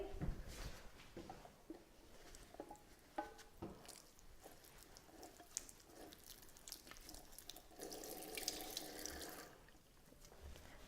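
Water from a kitchen tap runs and splashes into a sink to dampen a muslin cloth, coming in faint uneven trickles and drips with a fuller gush near the end, quiet and without talking.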